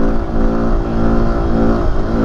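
A motorbike engine revs hard and continuously during ground wheelies on a street ride, a loud, close, steady roar with fluctuating pitch and no talk over it.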